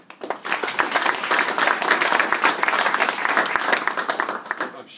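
A lecture audience applauds, a dense burst of clapping that swells quickly, holds steady for several seconds and then thins out.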